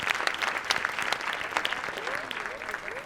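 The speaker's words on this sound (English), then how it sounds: "so he deserves a big round of applause" Audience at an education panel discussion in Detroit applauding steadily for a few seconds, a dense wash of clapping with a voice faintly audible beneath.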